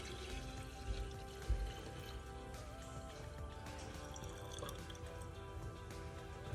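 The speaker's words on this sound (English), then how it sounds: "Now we need to add it to our fermentation vessel. And just pour it slowly over here." Brewed green tea for kombucha being poured slowly into a fermentation vessel, a soft, steady liquid trickle with light drips running throughout at low volume.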